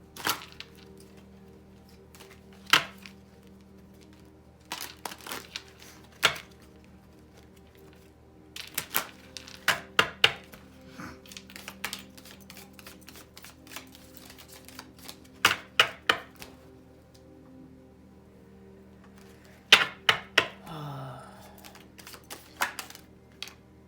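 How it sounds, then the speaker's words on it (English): Tarot cards are shuffled in scattered bursts, quick papery riffles and taps separated by quiet pauses, close and fairly soft, with no voice. "Let's get a little bit of a reshuffle."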